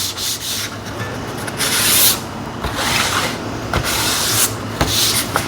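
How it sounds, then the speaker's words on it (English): Sealed MDF is worked by hand with a sanding sponge, giving close, rhythmic back-and-forth scratchy rubbing strokes with brief pauses between passes and no talking. "We're gonna give it a quick buzz with the sanding sponge,"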